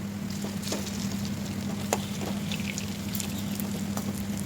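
Sattu-stuffed whole okra frying over a medium flame in a pan, a steady soft sizzle with faint crackles and pops throughout, close and continuous with no talking.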